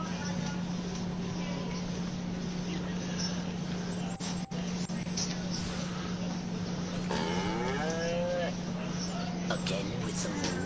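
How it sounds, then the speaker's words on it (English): Cow mooing in the Destroy All Humans video game, a low sustained bovine call over a steady hum, with game voices and effects mixed in. "Again with the moo."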